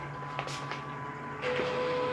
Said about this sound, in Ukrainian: Принтер старається стартанути.